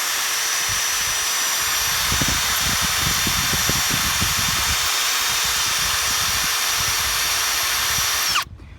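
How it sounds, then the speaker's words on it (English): A power drill with a titanium bit whines continuously as it bores through metal on a 2005 Big Dog motorcycle, loud and close, before cutting off abruptly near the end. "we're going to use a titanium bit for metal"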